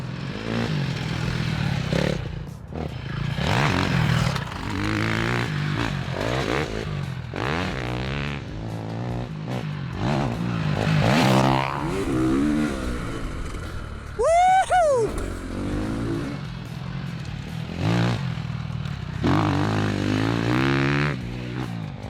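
A Ducati 450 motocross bike ridden off-road, its engine droning steadily near the camera with rises and falls in pitch, one sharp rev spike mid-ride, and scraping clatter underneath.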